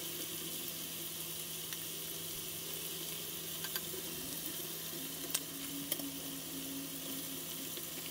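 Korean fried chicken coated in dried batter mix sizzles steadily in hot oil in a pot at home, a constant quiet hiss of frying with a few faint clicks and bubbling pops.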